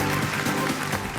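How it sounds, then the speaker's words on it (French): A studio audience applauds a guest on a French-language talk show, a brief dense burst of clapping lasting just over a second. "on l'applaudit encore très fort s'il vous plaît"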